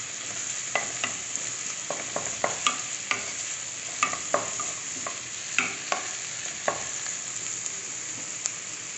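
Boiled potatoes and roasted peanuts with golden onions in a pan for poha, stirred with repeated scraping clicks of a spoon over a steady soft sizzle, close and moderately quiet.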